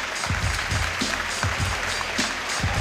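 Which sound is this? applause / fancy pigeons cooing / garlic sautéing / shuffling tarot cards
applause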